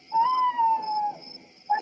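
A cartoon owl gives a single long, wavering hoot, loud and clear against a quiet night background, followed by the brief start of a second hoot.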